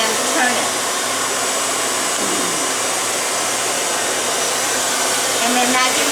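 A handheld hair dryer blows loudly and steadily at close range while hair is blow-dried into waves, with a constant airy roar and only slight changes in tone.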